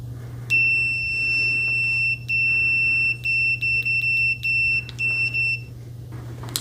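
A UNI-T UT122 multimeter sounds its continuity beep at maximum volume: a sharp, high electronic tone in a series of bursts, first a long one, then rapid on-off pulses of varying length, over a low steady hum.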